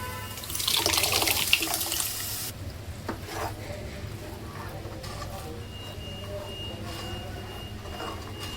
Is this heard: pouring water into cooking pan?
yes